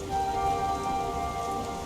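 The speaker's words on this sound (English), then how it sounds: "In the rain." Steady rain falls in a video game, a dense even hiss of drops on surfaces with faint tonal game sounds underneath, continuous and fairly close with no voices.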